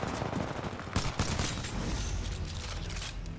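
Pistol gunfire in Titanfall 2 comes in quick, loud bursts of sharp reports with ringing game noise between the shots.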